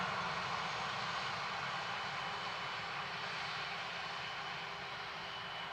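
Ilyushin Il-76 jet engines at Dublin Airport produce a steady, loud broadband roar with a low rumble that holds constant throughout, with no talk over it.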